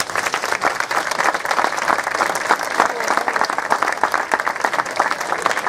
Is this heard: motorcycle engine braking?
no